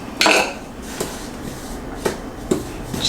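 Flour, sugar and salt being stirred together in a bowl, with a utensil clinking and scraping against the sides in a few sharp knocks over steady soft rustling.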